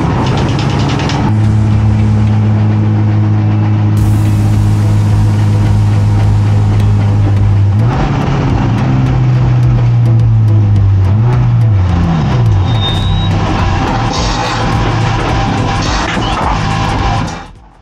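Race car limping on its bare wheel rim after the right rear tyre blew out, a loud, sustained engine drone with a steady low tone that wavers and dips near the end, grinding continuously with no voices.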